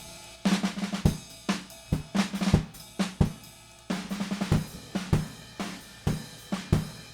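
A dry drum pattern played alone, punchy kicks and snare hits with a loose, steady groove, fairly close and moderately loud.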